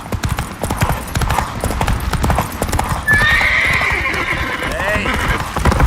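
Roach, Geralt's horse in The Witcher 3, gallops with steady rapid hoofbeats, then lets out a loud, drawn-out neigh midway through, all set against a busy game backdrop.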